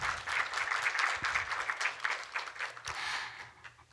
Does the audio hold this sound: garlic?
no